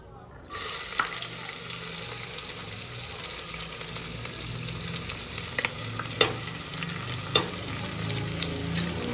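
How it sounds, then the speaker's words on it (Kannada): Onions frying in a pan for kushka biryani: a sudden onset of dense sizzling that continues steadily, with a few sharp clinks and stirring scrapes along the way. "ಸೊ ಇವಾಗ ನಾವು ಆನಿಯನ್ ಹಾಕೋಣ. ಸೊ ಆನಿಯನ್ನ ಆ್ಯಡ್ ಮಾಡ್ಕೋತಾ ಇದ್ದೀನಿ ನಾನು."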